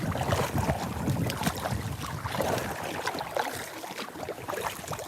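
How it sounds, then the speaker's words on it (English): Gusty wind by the Trinity River buffets the microphone in uneven rumbling bursts, loud and close throughout with no voices. "Get a little bit more protected from this wind."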